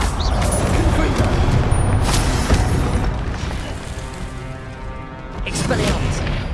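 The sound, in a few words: Confringo blast spell exploding in video game Hogwarts Legacy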